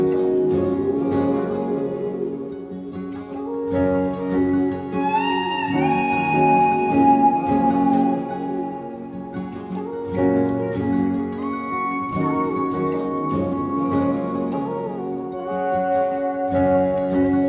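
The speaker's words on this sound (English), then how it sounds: "All right, slide guitar." Slide guitar glides between sustained notes, bending smoothly up and down over a steady backing, loud and continuous without talking.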